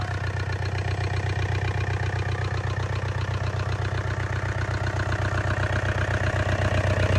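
Yanmar 4TNV88 diesel engine in original condition, running smoke-free at a steady idle: a continuous, even, low rumbling chug, close and unchanging, with no voices over it.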